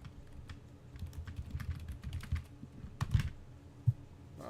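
Two computer keyboards are typed on at once, quiet rapid key clicks in irregular bursts close by, with a couple of heavier thuds, no speech.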